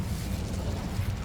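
Incendio fire spell cast in the Hogwarts Legacy video game, a dense, steady low roar of flame and rumble holding at even loudness for a moment, with no voice over it.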